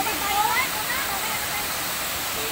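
Tarangban Falls in Samar roars as a constant, broad rush of falling water close by, with brief voices over it at the start.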